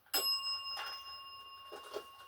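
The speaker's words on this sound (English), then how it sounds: "Can you ring the bell if you don't like me being here?" A single bell strike rings out in a quiet room during a paranormal investigation, bright and clear, its metallic tone decaying slowly while soft movement and faint breathy sounds follow.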